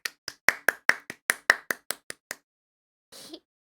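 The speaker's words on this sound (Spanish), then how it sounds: "El aplauso." A single person claps about twelve crisp, evenly spaced times close up, followed by silence and a brief rustle.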